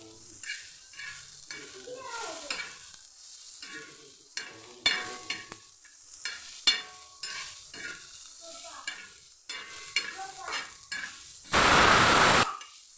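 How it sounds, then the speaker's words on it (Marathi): Garlic sautéing in a pan for a village-style spicy chicken curry, with intermittent spoon stirs and scrapes over a light sizzle and a short burst of loud hiss near the end. "लसूण पण परतून घेणार."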